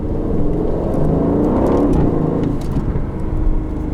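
A 2020 Aston Martin Vantage drives with a loud, steady engine drone from inside the cabin. The pitch rises and falls slightly as gears change through the paddles, and there is no talking.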